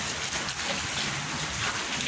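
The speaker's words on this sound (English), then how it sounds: "Suddenly raining now." Heavy, sudden downpour in a home backyard, a dense continuous hiss of rain pounding surfaces, steady and loud throughout with no pauses or voices.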